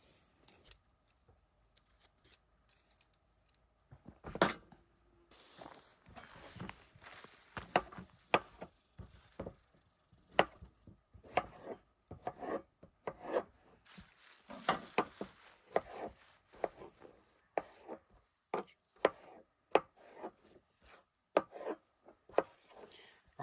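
A knife chops and scrapes potatoes being cut for mashed potatoes at a campsite, with irregular sharp cuts and scraping strokes, sometimes bunched and sometimes spaced apart, fairly quiet and close by.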